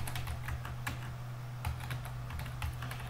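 Quick, light clicks of a computer keyboard being typed on nearby, soft and fairly quiet, with short bursts and irregular gaps over a low hum.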